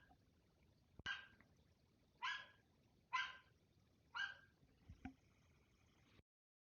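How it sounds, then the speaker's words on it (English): Dog barking outdoors at a distance, four clipped barks at roughly one-second intervals followed by a couple of softer knocks, faint against a quiet background. "My dog is freaking out outside."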